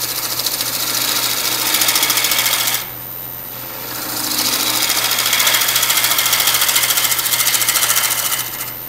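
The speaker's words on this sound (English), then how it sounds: "Turn my speed up just a little bit here." A wood lathe turning a square cottonwood burl bowl runs with a loud, steady mechanical whine, dips briefly, then climbs back up to a higher, sustained speed, with no talking.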